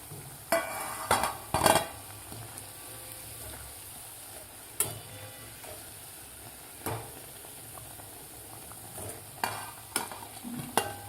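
Fasting-style medu vada frying in oil, with a soft continuous sizzle under intermittent scraping and clinking of a slotted spoon moving and lifting them from the pan; no voices.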